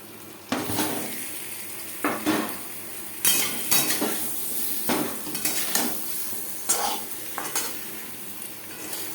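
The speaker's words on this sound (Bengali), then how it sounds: "এবার দিয়ে দেবো আলু।" Potatoes go into a pan of oil for a mutton curry, sizzling steadily as a utensil stirs and scrapes against the metal in repeated strokes, close and fairly loud.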